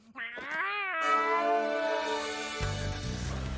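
A cat lets out a few drawn-out, whining meows in close succession, loud and near, with a low rumbling noise entering toward the end.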